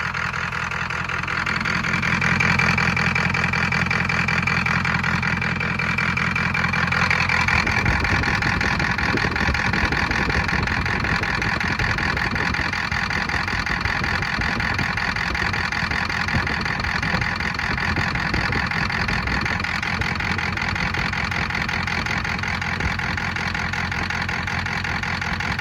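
A Ford/International 7.3 liter IDI diesel engine idles with cylinder number 2 misfiring, a steady loud rumble that turns rougher and more uneven after several seconds and keeps going throughout with no talk.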